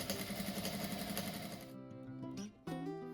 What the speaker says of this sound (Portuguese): agora eu vou costurar sempre em cima, na mesma direção desse aqui